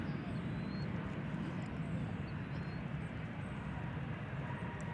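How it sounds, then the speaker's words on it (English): An American Eagle CRJ regional jet arriving from Santa Fe comes in to land at DFW Airport, its engines a steady, broad roar held at one level throughout, with some faint background noise. "As we watch American Eagle 3202 coming in from Santa Fe, New Mexico, CRJ"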